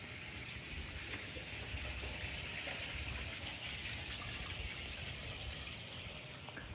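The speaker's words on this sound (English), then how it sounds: "Y'all see that brook? Brooks are cool." Small brook flowing outdoors, a steady, even wash of rushing water that holds at one level from start to finish, fairly loud and close with no other sounds standing out.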